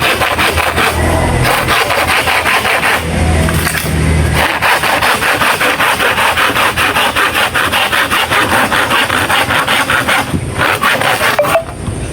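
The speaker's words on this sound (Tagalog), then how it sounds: "subukan natin na lagariin" Hand saw cutting through a bamboo pole for a garden planter, with steady, rhythmic back-and-forth strokes. The strokes are loud and close, with no talk over them.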